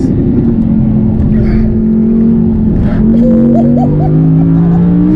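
An Audi R8 race car driven hard on a track, its engine droning loud and steady with rising and falling pitch as it revs through corners, with people talking over it from inside the car.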